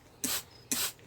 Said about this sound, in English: I like doing it with the peroxide spray because then I can, kill off any little mites or bugs.